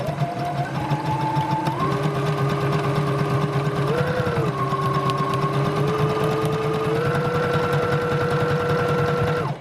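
An electric sewing machine stitches ribbon onto socks, running as a steady close buzzing whir whose pitch steps up and down several times as the speed changes, with no break in the motor.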